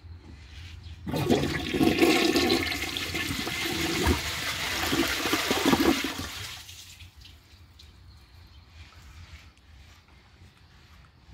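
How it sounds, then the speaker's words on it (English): A yellow 2008 Kohler Wellworth toilet with a water-saving flapper flushes: a loud close rushing swirl for about five seconds, then a sudden drop to a quiet trickle of the tank refilling. "Well, the flush could be better."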